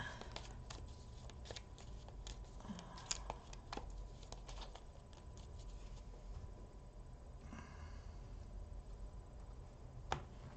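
Tarot cards shuffled by hand during a weekly Scorpio reading, with soft repeated riffling and slapping textures and a few sharper snaps over a steady low background hiss.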